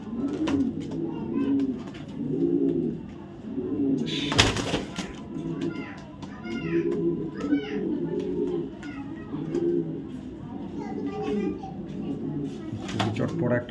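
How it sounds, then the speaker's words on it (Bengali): A big male racing pigeon coos repeatedly in rhythmic bursts, close and loud, while someone talks over it throughout and other birds call faintly. "দেখার মতো একটা নর কবুতর, সাইজ মাশাআল্লাহ বিগ সাইজের একটা নর কবুতর"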